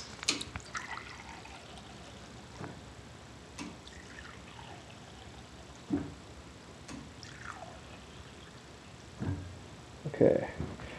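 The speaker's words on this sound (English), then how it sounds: "I'll actually pour it in shot glasses so you can see it being poured in shot glasses." Automated bar pouring a mixed drink into three shot glasses, quiet trickling and dripping liquid with small clinks and mechanical bumps, faint and close.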